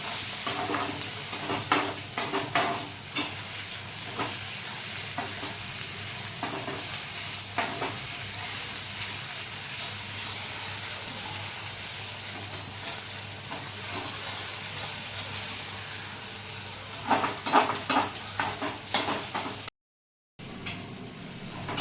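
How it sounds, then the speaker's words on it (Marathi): Onion and tomato sizzle steadily in a hot pan while being stir-fried, with scattered scraping clicks of the spatula throughout and a brief gap near the end; no one speaks. "टाकून टोमॅटो कांदा आणि टोमॅटो मस्त त्याला परतून घ्यायचा आहे."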